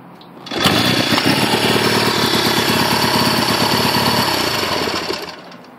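A 1970 Honda CL350 motorcycle engine fires up after a short lead-in and settles into a loud, steady, rapidly pulsing idle nearby for several seconds before fading at the end, with no talking.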